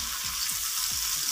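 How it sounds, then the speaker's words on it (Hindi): Onions, green chillies and tomato fry in a pan over medium heat, with a steady close sizzle and a few soft stirring scrapes. "उसके बाद हम इसको इस तरह हिलाएंगे इसमें ताकि ये अच्छे से मेल्ट हो जाए"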